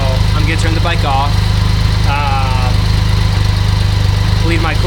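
A BMW K75RT motorcycle engine idles steadily and evenly after sitting unused for nine years, running close and constant throughout while someone talks over it.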